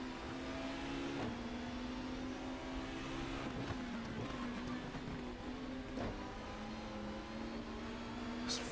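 Super Touring race car engines in the GTR2 Super Touring mod at Donington Park drone steadily, with a sustained engine tone that wavers as the throttle shifts, heard throughout at a constant, fairly quiet level.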